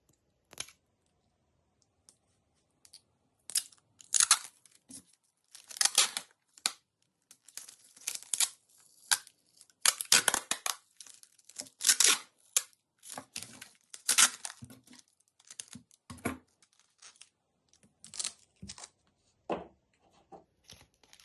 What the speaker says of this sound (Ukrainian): звичайний скотч.